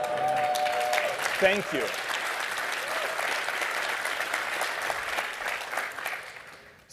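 A conference keynote audience applauds steadily for several seconds, dense clapping that fades out at the end, with a voice briefly speaking over it near the start.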